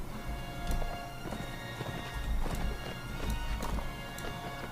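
Horse hooves clip-clop in a rapid, continuous gallop during a tournament fight in the video game Mount & Blade Warband, steady and mid-distance under a noisy game soundscape.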